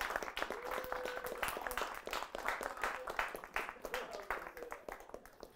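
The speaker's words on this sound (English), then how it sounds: "Let's give both the bands another round of applause" Applause from a live music show audience, a continuous, fairly distant rush of many hands clapping with a voice speaking over it.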